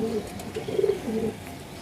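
A pigeon, a long-flying breed, coos close by in a few low, soft, throaty bursts against quiet background noise.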